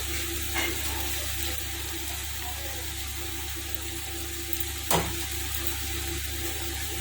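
Cooked rice being stirred into fried mint paste in a hot pan for mint rice, a continuous close sizzle with soft scraping of the spoon and one sharper clank near the end.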